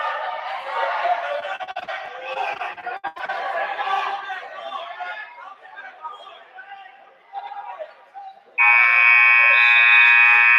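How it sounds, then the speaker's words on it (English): A loud, harsh electronic buzzer blares abruptly and holds steadily at the end of a period in a wrestling championship match, following crowd chatter and an announcer's voice. "And the buzzer sounds."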